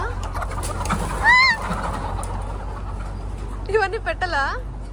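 Chickens on a farm in Charlotte, North Carolina give a few short, fowl-like squawks above a steady background hum, with a cluster of quick calls near the end.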